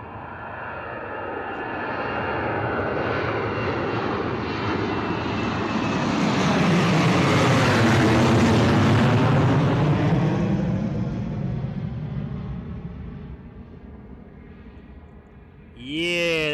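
A heavy Ryanair jet airliner flies low past Bristol Airport, its engine roar building from a distance to a loud peak near the middle and then fading away, with a voice cutting in briefly at the end.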